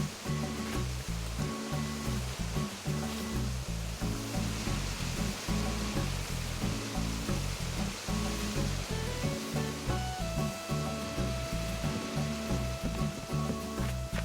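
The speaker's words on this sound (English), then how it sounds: "I have more waterfalls again" Waterfalls on an island in the game Animal Crossing New Horizons rush in a steady, dense wash of water noise, with faint game music tones beneath, continuous and unbroken throughout.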